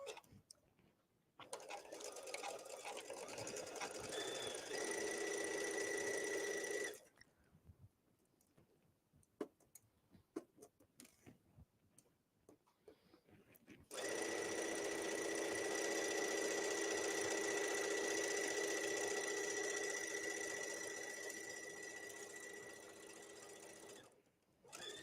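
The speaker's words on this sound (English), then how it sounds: "I'm sewing on the Brother Luminaire, which is super quiet" A Brother Luminaire sewing machine stitching a cardigan, running in two long steady whirring passes with a quiet gap of handling and small clicks between them, fairly soft and close.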